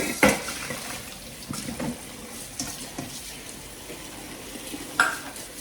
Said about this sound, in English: once they're done, you have to rinse them in cold water